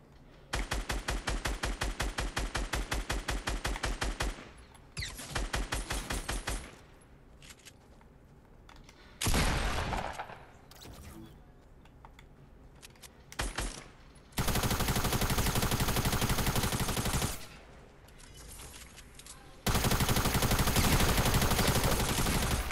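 A gun fires in Fortnite in loud, rapid bursts of shots, with stretches of sustained automatic fire separated by short quiet gaps.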